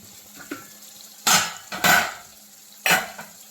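Ackee is dropped into a hot pan and gently stirred in a Jamaican ackee and saltfish dish, giving a few soft sizzling, scraping bursts close by.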